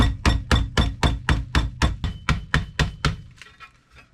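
Bread inside a closed plastic bag gets pounded with a hammer, eleven quick, heavy, close thumps in a regular beat that fade into lighter taps at the end.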